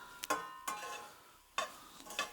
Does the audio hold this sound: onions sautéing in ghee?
yes